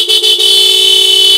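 Horn of a Hero Xtreme 125R motorcycle honks loud and close in one sustained steady tone with a couple of quick stutters at the start, alone without any talking.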